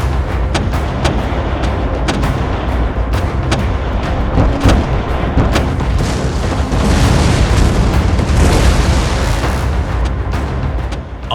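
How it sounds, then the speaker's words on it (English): Ottoman artillery pounds the castle walls of Krujë during the 1466 siege, a dense, unbroken barrage of heavy booms and rumbling blasts that stays loud for the whole stretch, with no voices. "The proud walls of Krujë began to shake under the fire from the Ottoman artillery."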